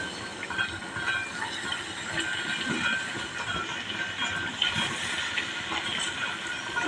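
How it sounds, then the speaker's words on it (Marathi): Spinach boiling in a pot of water for a dhaba-style palak matar, a steady, dense bubbling and hissing that stays fairly even throughout, close and continuous with no talk. "त्याच्यासाठी आपण हा पालक उकळवून घेऊया"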